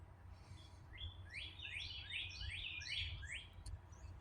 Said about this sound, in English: So do you hear those birds chirping?